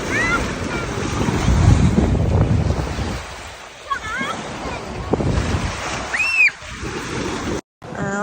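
Broad rushing sea surf rolls continuously on a Cyprus shore, with wind buffeting the microphone and a few brief high chirps drifting over the wash.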